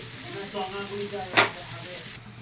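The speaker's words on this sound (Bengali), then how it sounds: "সবজিগুলোকে একটু ভেজে নিচ্ছি" Vegetables salted and frying in a pan give off a steady close sizzle and hiss, with one sharper spattering burst partway through.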